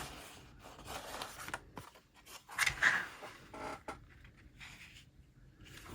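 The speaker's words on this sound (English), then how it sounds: "The first thing that I need to do is cut down some cardstock." Cardstock is cut with scissors in a few short snips, the sharpest near the middle, quiet and close with soft paper handling around it.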